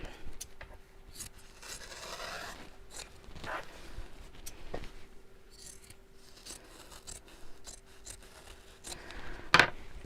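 Scissors snipping and trimming fabric at a sewing table, a string of quiet close cuts and rustles with a sharper snap near the end, without talking.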